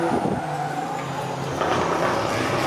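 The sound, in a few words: drift car warming up tyres at drift series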